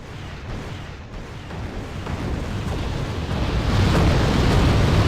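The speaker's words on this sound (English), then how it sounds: "So now I'm gonna entirely just rinse that area with rockets." Rocket barrage from Colossus launchers in Wargame: European Escalation, a dense continuous rumbling roar of overlapping launches and blasts that swells louder toward the end.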